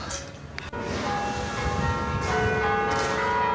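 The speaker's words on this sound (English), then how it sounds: "Beautiful view here, and the bells are belling." Church bells ring out in Leuven, Belgium, heard from a university library viewpoint with sustained, overlapping tones, a fresh strike entering partway through, at a moderate distance over faint outdoor ambience.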